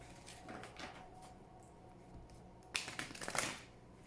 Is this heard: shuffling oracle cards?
yes